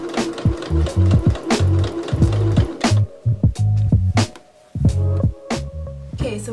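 A sewing machine top stitches fabric binding on a jumpsuit, its needle thudding in quick uneven bursts close by with brief pauses and handling knocks between runs.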